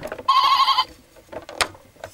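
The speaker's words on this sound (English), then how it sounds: "We have a sheep. A sheep." A baby's toy farm tractor plays a recorded sheep bleat, one loud electronic bleat lasting about half a second, followed by quieter handling clicks and knocks.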